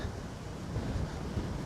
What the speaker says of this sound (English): Again, excuse the wind, it's very windy now.